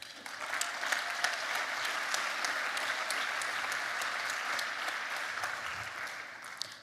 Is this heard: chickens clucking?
no